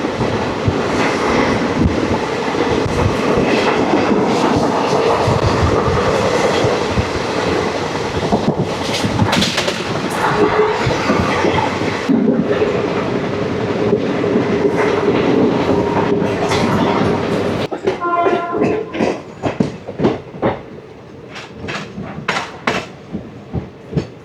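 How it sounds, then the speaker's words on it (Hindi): An express train on the Delhi to Jodhpur route runs through Palam station at high speed without stopping, a loud steady roar with rattling coaches and clickety-clack wheel beats that thin out toward the end. "हम देख रहे हैं पालम को हमारी ट्रेन हाई स्पीड में स्किप कर रही है"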